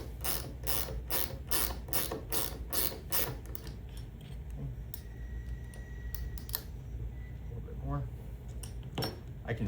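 A portable bearing roller swage tool, MS14103-5, rolled around an aircraft bearing, first with a run of fast, regular ratcheting clicks, then quieter grinding and metallic ticks as it tightens; a voice talks over parts of it.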